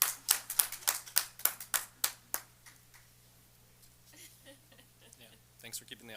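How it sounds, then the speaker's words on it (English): A board meeting audience claps for a few seconds, a burst of sharp, close, fairly sparse claps that dies out into quiet room noise, with voices speaking. "Should we clap her in?"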